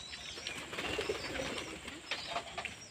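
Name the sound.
pigeons flying up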